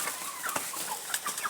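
Chickens on a farm clucking softly while feeding alongside pigeons, scattered short fowl calls and faint pecking over quiet background, no talking.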